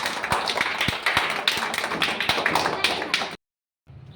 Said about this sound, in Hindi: और जोरदार ताली लगा दीजिए